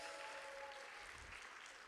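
Audience applause at a conference gathering, honoring the main sponsor; a soft, steady wash of many hands clapping throughout, faint and distant, with a faint tonal hum underneath.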